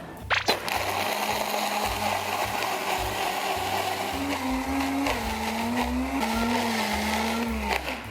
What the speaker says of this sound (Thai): ปิดฝาแล้วก็ปั่นได้เลยค่ะ